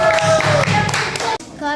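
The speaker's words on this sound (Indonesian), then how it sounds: "kita berikan tepuk tangan untuk kelompok 3" A classroom of students claps for a student group's poster presentation, a short burst of close hand claps mixed with voices that cuts off abruptly near the end.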